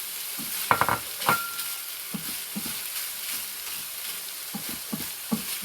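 Onions going into a hot pan, a steady hiss of frying with several sharp clatters and stirring scrapes, close and fairly loud, no talk.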